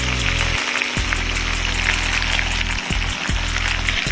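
Potatoes frying in olive oil in a pan, a steady close sizzle and crackle throughout, with a low hum underneath and occasional soft knocks from stirring.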